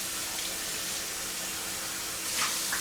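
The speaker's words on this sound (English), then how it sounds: "And I usually rinse this out real quick." An Omega 8004 juicer container rinsed under a running tap, a steady, even rush of water with a slight splashy change near the end.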